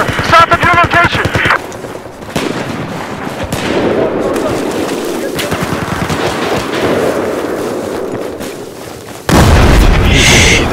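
Battlefield 4 gameplay with bursts of machine gun fire and heavy explosions, dense and loud throughout, ending in a louder blast, while game radio voices speak over the combat.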